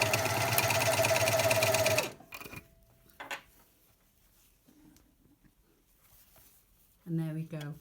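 A sewing machine stitches along a marked seam line with a fast, steady mechanical whir for about two seconds, then stops; quiet handling noises follow and a voice speaks at the end.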